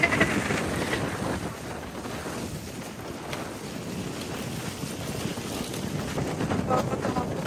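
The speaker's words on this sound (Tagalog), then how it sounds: "Ay, ang lakas ng hangin!" Strong wind roars continuously across the microphone, a loud, buffeting rumble with no letup.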